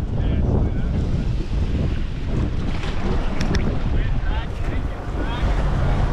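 Choppy open sea with steady wind buffeting a fishing boat far offshore in stormy cyclonic weather, a continuous dense rush of wind and water with no break across the whole stretch.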